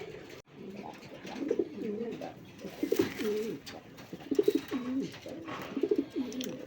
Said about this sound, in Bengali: বন্ধুরা এখানে এক জোড়া হোয়াইট রেসার কবুতর আছে